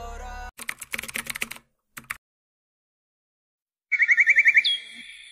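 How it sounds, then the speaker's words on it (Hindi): An Asian koel calls on a village morning. A quick series of repeated rising notes comes near the end, clear and fairly close, after a stretch of scattered clicking and tapping and then silence. "सुबह की खामोशी में कोयल की मीठी आवाज़"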